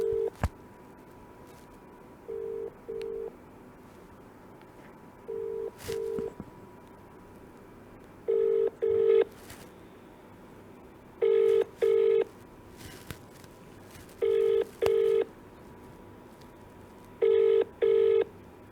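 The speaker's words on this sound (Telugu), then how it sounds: "మెక్ టీవీ అరియానాకు కూడా కాల్ చేసే ప్రయత్నం చేస్తుంది" A telephone call rings unanswered, giving paired electronic ring tones at a steady interval, each pair separated by quiet gaps, with faint clicks and no talking.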